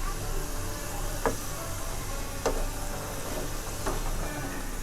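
Something frying in oil until it turns dark, a steady low sizzle with a few soft stirring clicks spaced apart and a faint background hum.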